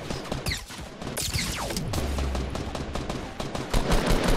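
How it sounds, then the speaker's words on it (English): Rapid bursts of gunfire in Fortnite, sharp repeated shots crackling through the whole moment, loud and close with no voices over them. "Somebody else is shooting at it, too."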